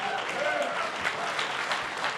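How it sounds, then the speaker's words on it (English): Fans at a sports honors awards show cheer and clap steadily, with a crowd's applause filling the room while a voice speaks over it. "So fans, keep cheering."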